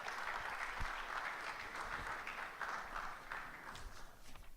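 Audience applause fills a church-style talk setting, steady clapping from many hands continuing for several seconds at moderate level with no voices over it.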